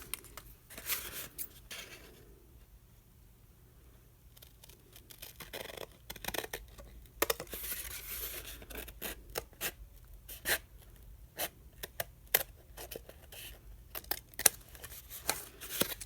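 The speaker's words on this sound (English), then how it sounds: "And cut it right there." Scissors cutting paper for a journal spine, a series of close, quiet snips and scraping crunches with brief pauses, over near silence.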